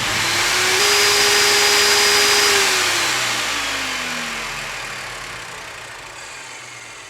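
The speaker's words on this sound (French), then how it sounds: "le bruit d'une scie chirurgicale pneumatique se mit en marche." A pneumatic surgical saw whirs up to a loud, steady mechanical whine that holds for a couple of seconds, then slowly sinks in pitch and fades over broadband hiss, with no voices.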